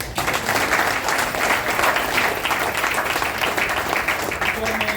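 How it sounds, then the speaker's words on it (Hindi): Applause from an audience at a DXN direct selling business meeting in Mumbai, a dense, steady wash of clapping lasting throughout, with crowd murmur mixed in. "उनके लिए हाथ ताली हो जाए"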